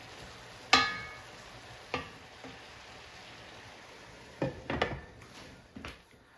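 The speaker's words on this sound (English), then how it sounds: "I'm going to stir that up" Broccolini with garlic and onions stirred in a pan, a few scattered scrapes and clatters of the utensil against the pan over a faint sizzle, one sharp knock near the start and a cluster of stirs later.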